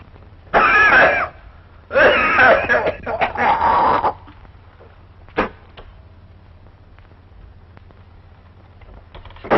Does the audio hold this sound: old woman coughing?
yes